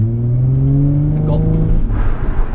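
Nissan 350Z drifting at a track experience, its engine roaring near and loud at high revs, then dropping as the throttle comes off, with a voice talking over it.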